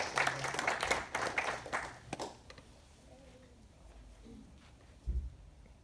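Small audience at an annual art exhibition presentation giving a brief round of applause that fades out after a couple of seconds, leaving a quiet room with faint sounds.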